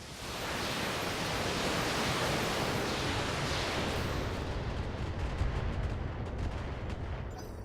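Mech weapons firing in the video game BattleTech, a loud sustained roaring barrage of blasts and rumbling impacts that fills the whole stretch before easing slightly toward the end.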